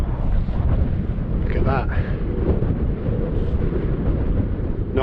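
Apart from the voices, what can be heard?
strong wind on a mountain summit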